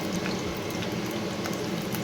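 A little water poured into a spiced masala for brinjal curry, cooked without onion or garlic, a soft continuous watery pour and sizzle heard close by and fairly quiet, with no voices.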